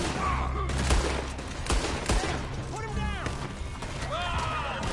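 Gunfire in Red Dead Redemption 2 Online, a loud dense fusillade of overlapping shots and impacts, with a voice talking over it.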